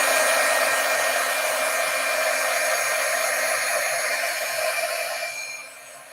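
A heat embossing tool blows steadily at close range over oxide ink on a paper craft project, a continuous loud whirring hiss that holds for about five seconds and then fades as it shuts off.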